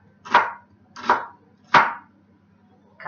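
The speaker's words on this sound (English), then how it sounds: "cut the onion." A knife chops through an onion on a cutting board while minestrone soup is being prepared: three evenly spaced crisp cuts with a fourth just starting, close and clear over a faint low hum, no speech.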